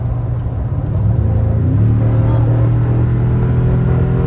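A Toyota Tundra TRD Pro with the iForce V8 engine rumbles loudly up close, its low engine note climbing and holding steady as it accelerates, with no talk over it.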